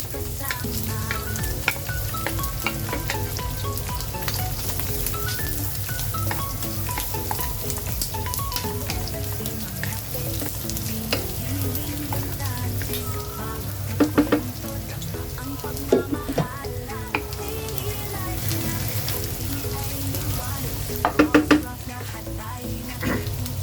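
Garlic frying in a pan gives a steady, close sizzle throughout, with a few sharp crackles and pops and occasional stirring, and no talk.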